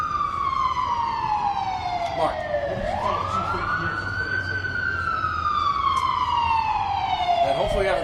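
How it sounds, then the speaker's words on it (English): Police siren wailing steadily at moderate distance, its tone sweeping down and then rising again over a constant background hum, with a single word spoken partway through. "And hopefully we have a better solution than those sirens."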